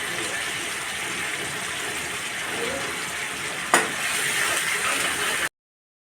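Curry leaves and green chillies hit hot oil with a steady, close hiss of frying that holds throughout, with a brief sharp crackle partway through, before the sound cuts off abruptly.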